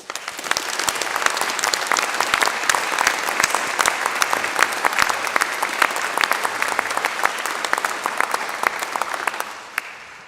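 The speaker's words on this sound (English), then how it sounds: "Please join me in giving them a warm round of applause." A graduation ceremony audience for a health, education and life sciences faculty gives the musicians a long, dense round of applause, steady and loud from start to finish before it fades near the end.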